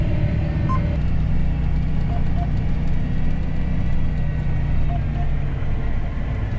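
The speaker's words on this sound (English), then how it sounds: "There is a truck." A truck engine idling steadily during a corn harvest with a combine and 30-foot auger head nearby, a constant low rumble with faint intermittent beeping tones over it, no talk.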